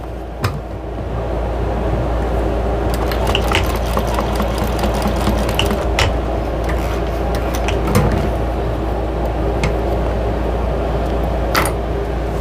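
A sewing machine stitching the turning hole closed on a fabric chicken-shaped drying mat, a loud, continuous motor whir with a low hum beneath and a few sharp clicks, close up.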